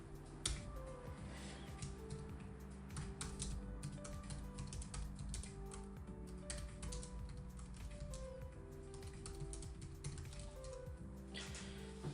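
Rapid, uneven keystrokes on a computer keyboard click along continuously at close range during live futures trading, faint against a low steady hum, with no speech.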